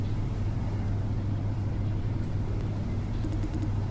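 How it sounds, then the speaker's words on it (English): Steady low mechanical hum of an elevator ride in the video game Minds Beneath Us, a constant droning rumble with faint high ticks near the end and no talking. "I told you the elevator's faster now"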